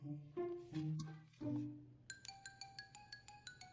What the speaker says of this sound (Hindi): सॉन्ग यूफेई का फोन।